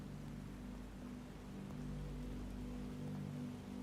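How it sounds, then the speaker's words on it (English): Rain falls just beyond a colonnade in a steady, soft, continuous wash of drops on surfaces, faint and even, alone without voices. "it begins to rain"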